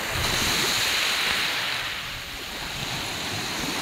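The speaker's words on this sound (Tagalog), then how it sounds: "Ayan po ay talagang lumalabas doon ng tubig." Sea water surging out at Masanga Point, a loud continuous rush of surf and wind noise that dips briefly midway, then keeps roaring.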